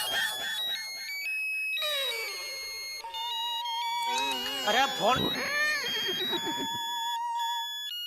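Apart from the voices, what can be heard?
phone ringing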